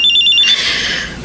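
A cellphone rings at night with a quick repeating electronic trill, loud and close, before fading into a softer wash of tone.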